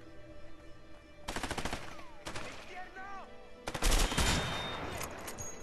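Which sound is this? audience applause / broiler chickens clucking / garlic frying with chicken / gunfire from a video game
gunfire from a video game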